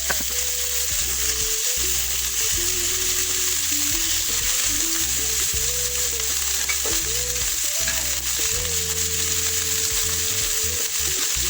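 Steak searing in a hot pan right after being flipped, a loud, continuous crackling sizzle that holds steady throughout, close up with no voices.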